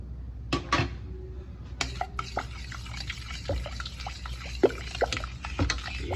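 Fish sauce (patis) cooks in a pan for homemade kimchi while a utensil stirs it. Sharp metallic scrapes and clinks come at irregular intervals over a low background of bubbling liquid, with no talking.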